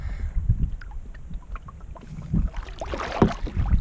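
Paddling a canoe on Waldo Lake, Oregon, on a choppy day brings irregular splashes and sloshing water against the hull, close by, with gusts of wind noise over the microphone.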